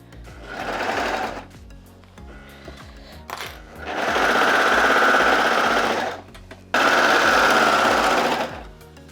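An overlocker sews a dress seam in three loud bursts of rapid mechanical whirring, separated by short pauses filled with softer clicks and handling noise.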